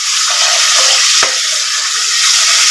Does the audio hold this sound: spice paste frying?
yes